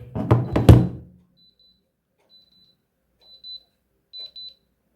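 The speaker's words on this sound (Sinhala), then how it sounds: "පොඩි බීප් සවුන්ඩ් එකක් යනවා ස්පීකර් එකේ." A soft thump and rustle, then a few short, faint high-pitched beeps from a Soundcore R50i earbuds speaker, spaced apart in otherwise quiet surroundings.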